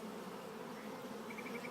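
Honeybees buzzing steadily around a hive at a ranch, a continuous soft drone of many insects close by with no talk over it.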